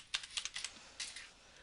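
Keys tapped on a computer keyboard in a short burst of about eight quick, light clicks, close and fairly quiet, with no voices.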